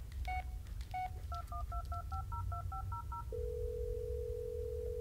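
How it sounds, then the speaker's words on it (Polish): In the Blair Witch video game, a phone dials a quick string of touch-tone beeps in an uneven rhythm, then a steady continuous tone follows, clear over a low background hum. "Muszę telefon odebrać."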